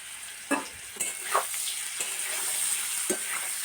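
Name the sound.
boiled radish pieces frying in hot oil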